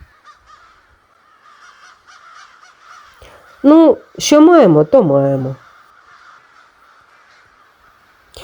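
Loud harsh crow caws, a few in a quick series, break out mid-clip over quieter background chatter at an old monastery in Pereiaslav, with someone talking briefly beforehand.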